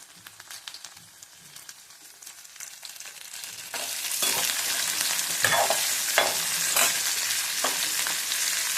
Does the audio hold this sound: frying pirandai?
yes